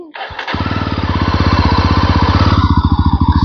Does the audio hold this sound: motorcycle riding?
yes